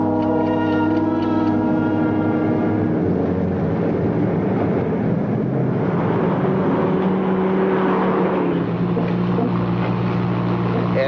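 A car in a radio drama speeds along with a steady, loud engine roar and rushing wind that stays constant throughout, with a faint voice briefly audible.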